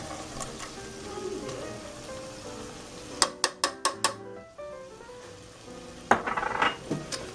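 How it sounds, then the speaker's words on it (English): About two tablespoons of garlic go into chicken pieces in a pan over medium-low heat: a steady close sizzle, then a quick run of sharp utensil clinks against the pan and a louder scraping burst near the end. "I've got it at about medium-low heat, and we're going to go ahead and add some garlic"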